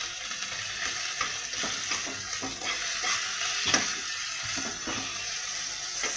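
Salted tomatoes frying in a pan give a soft, continuous sizzle, with repeated scraping strokes of a spoon stirring them, fairly quiet and close, with no talking.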